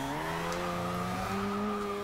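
A Mazda RX-7 in the racing game Forza Horizon 2 drifting with its rear wheels spinning: steady, loud engine drone with sustained tire squeal that shifts pitch midway, no voices.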